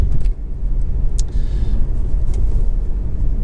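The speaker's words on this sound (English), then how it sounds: "this is a quick road test video, and this is for a Honda Accord 2-litre EX automatic" A 2.0-litre i-VTEC Honda Accord EX automatic on a road test, heard from inside as a steady low engine and road rumble with a faint whoosh, continuous and fairly loud, with no talking.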